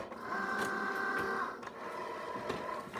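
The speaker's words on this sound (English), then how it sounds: "Meantime, Cricut's doing the work over here." A Cricut Joy cutting machine works through a sheet of cardstock, its motor whirring steadily with a soft mechanical hum for about a second and a half, then continuing more quietly with small clicks as the carriage moves.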